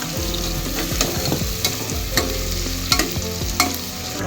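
Onions fry in ghee with cinnamon, cardamom and cloves in the pan, giving a loud continuous sizzle. Repeated stirring scrapes and clanks against the pan come close and regular, with no talking.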